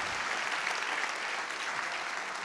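An audience at a literary festival's closing speech in Pau, France claps steadily throughout, a sustained wash of applause with no voices on top.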